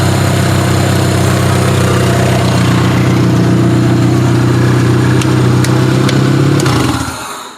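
Demolition derby car engine idling loud and steady with a rough, throbbing low rumble, no muffler fitted, running continuously before cutting off near the end.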